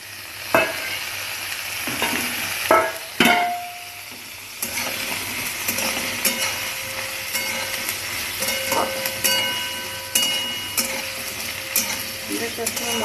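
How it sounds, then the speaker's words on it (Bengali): Potatoes are tipped into a pan of lightly fried onions and bay leaf, giving a few sharp clattering stirs and then a loud, steady sizzle with scraping spatula strokes, with no talking. "এর মধ্যে আলুটা দিয়ে দিচ্ছি, একসাথে ভাজা হবে"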